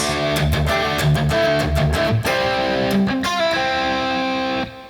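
A distorted electric guitar plays a choppy riff of repeated chords and short notes, loud and up close, ending with a sustained chord that cuts off.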